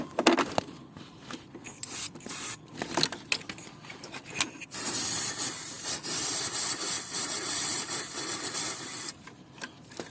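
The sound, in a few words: spraying silicone oil from aerosol can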